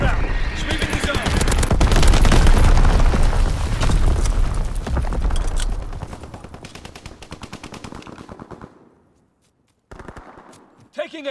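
Division artillery and mortar fire in a Call of Duty WW2 battle: dense rapid gunfire and heavy booming blasts that roar loudly, then thin out and fade into a brief silence before a few more shots return.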